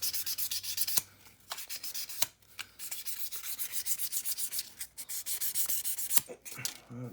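A brass chassis is hand-sanded with 1000 grit sandpaper in close, continuous back-and-forth rubbing strokes with a few sharp scrapes, loud and alone.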